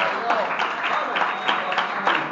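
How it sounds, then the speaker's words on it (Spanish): A church congregation applauds steadily, a sustained wash of many hands clapping in a reverberant hall, with voices mixed beneath it. "Denle un aplauso a Jesucristo en esta hora."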